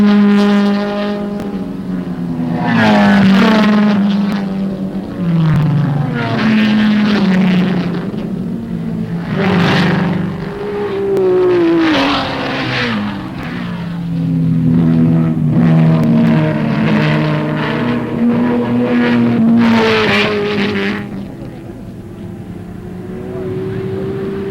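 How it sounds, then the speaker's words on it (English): Bryan's GT sports car races at the Glen, its racing engine roaring loudly through repeated rising upshifts and drops, sounding more like a Trans Am sedan, with several cars sweeping past close by in a continuous run of revs. "with Bryan's GT sounding more like a Trans Am sedan than a sports car"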